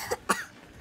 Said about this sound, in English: Okay, no coughing on Auntie.